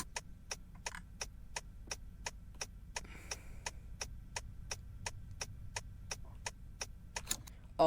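A 2022 Tesla Model S Plaid's turn signal ticks in a steady, evenly spaced rhythm, crisp and fairly close over a low, quiet cabin hum.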